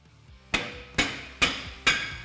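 Four loud metallic hammer blows strike a car's brake drum at an even pace to free it, each ringing briefly before the next, close up with no voices.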